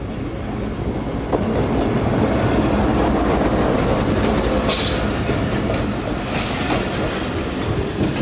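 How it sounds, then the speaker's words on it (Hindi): Shalimar Express passenger train pulling into Dig Road Junction, a loud steady rumble of wheels on rails with rattling cars and brief high squeals, close by and continuous, no voices. "ट्रेन तकरीबन आधा घंटा लेट पहुँच रही है डिग रोड जंक्शन पर"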